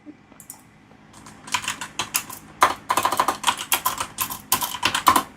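Close, crisp typing on a computer keyboard, with quick bursts of key clicks that come in irregular runs and grow denser over a few seconds, and no voice.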